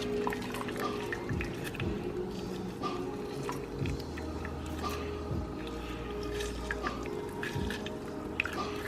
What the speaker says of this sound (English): I'm going to squeeze a whole lemon in here